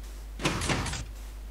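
A metal door in the Minecraft video game opens or closes in one short mechanical sweep lasting about half a second, heard alone over a low steady hum.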